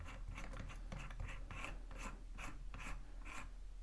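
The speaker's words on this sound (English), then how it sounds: "if we're rotating it clockwise, it's going to close the keyless chuck" Keyless chuck of a Hart HPDD02 cordless drill turned by hand, its jaws closing with a steady run of dry ratcheting rasps, about nine evenly spaced clicks close up with no talking.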